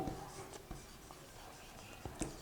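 Pen writing figures on paper for a Class 12 accountancy sample paper: soft scratchy strokes and light taps at irregular intervals, close and quiet, with no talk.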